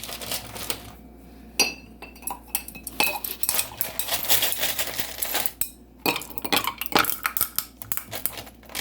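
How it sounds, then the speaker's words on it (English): Ice cubes dropped one after another into a glass of homemade kava, giving a run of sharp, close clinks and knocks with brief pauses between them and no talking. "Then I'm gonna put some ice cubes in it."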